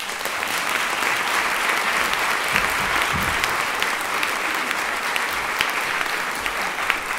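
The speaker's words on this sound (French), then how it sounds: "Je vous prie d'applaudir très très fort Lolita" Audience in a hall applauds warmly as a guest storyteller is welcomed onstage, sustained dense clapping with a few sharper individual claps standing out and no talk over it.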